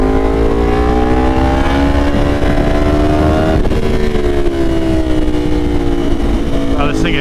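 Tuned Yamaha R1 Limited Edition motorcycle engine droning steadily while riding, pitch rising gradually then dipping slightly, with wind rush throughout and a voice talking over it.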